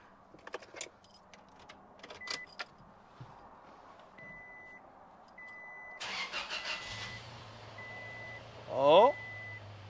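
A Toyota Tacoma is fired up after a battery swap: keys jingle, chimes beep, the starter cranks and the engine catches into a steady idle, with brief talk at the start.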